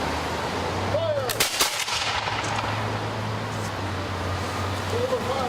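Rifle volley from an honor guard at an outdoor Purple Heart ceremony in Watertown: one sharp, loud crack of near-simultaneous shots over a steady low hum, with spoken commands around it.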